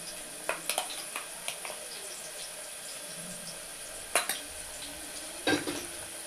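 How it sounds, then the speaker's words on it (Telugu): Fresh ginger paste goes into a pan for chicken curry and is stirred, giving soft scraping and sizzling with several sharp clinks of a utensil against the pan, spaced irregularly across the clip. "ఇప్పుడు అల్లం పేస్ట్ అనేది యాడ్ చేస్తున్నాను."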